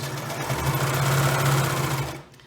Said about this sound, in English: I also have my serger blade disengaged